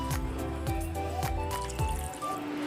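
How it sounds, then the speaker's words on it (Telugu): Water poured into a pot of okra tamarind stew (bendakaya pulusu), a steady close trickle and splashing filling the pot continuously throughout. "వాటర్ పోసి"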